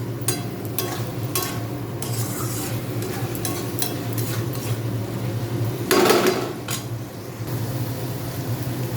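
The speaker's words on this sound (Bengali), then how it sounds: "হালকা একটু মশলা ধোয়া জলটা দিয়ে আমি আবার কষিয়ে নেব" Spiced curry sautéing in a pan with a splash of spice-rinse water, a continuous low sizzle under intermittent spoon scrapes and clinks against the metal, with one louder scraping burst midway.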